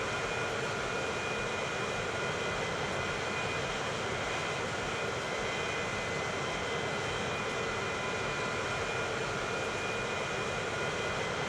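Steady aircraft engine drone from planes in the Transport Fever 2 video game, a constant broadband hum that holds evenly throughout with no talk.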